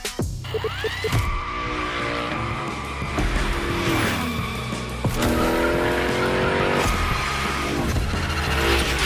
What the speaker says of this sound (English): Let's see how you handled your first slides with the Unicorn